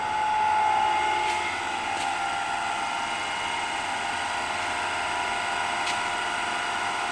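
A DC shunt motor on a load test bench, speed being set with a rheostat toward 1500 RPM, runs with a steady high-pitched electric whine and hum, constant and unbroken, with a few faint clicks.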